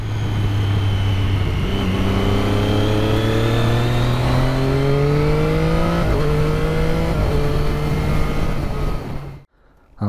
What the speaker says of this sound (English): Straight away, you can hear that familiar Triumph whine.